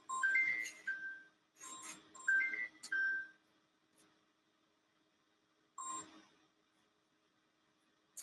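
A phone rings in a quiet room: two bursts of an electronic ringtone melody, a pause, then a shorter third burst, moderately loud and close, with no talk over it.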